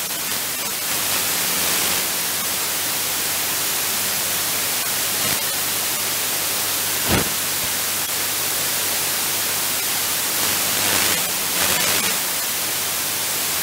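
A regenerative Kosmos Radio Ace radio kit gives a steady, dense wash of static hiss throughout, with a few brief crackling bursts and a low underlying hum.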